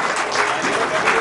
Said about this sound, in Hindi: जोरदार ताली बजाइए भाई